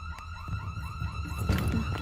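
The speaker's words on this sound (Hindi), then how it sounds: "सायरन क्यों बज रहा है?" An alarm siren wails in rapid repeating sweeps in an office building in a Hindi-dubbed South Indian action film, loud and continuous, with a few heavy thuds near the end and no voices.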